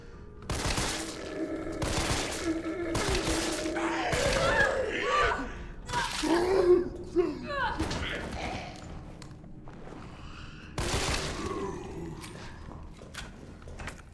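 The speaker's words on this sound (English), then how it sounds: "33 shot 9mm handgun with 3-round burst feature." A 9mm handgun with a three-round burst firing in the Resident Evil 3 remake: loud bursts of shots in clusters early on and again later, mixed with game effects and a player talking over them.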